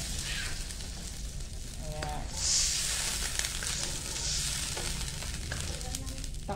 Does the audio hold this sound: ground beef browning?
yes